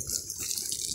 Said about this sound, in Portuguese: eu tô aguando aqui as hortas aqui, ó